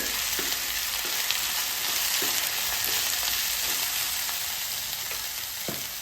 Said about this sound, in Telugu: ఇప్పుడు క్యారెట్లు కూడా వేసుకుందాం. ఈ మూడింటిని బాగా మిక్స్ చేసుకొని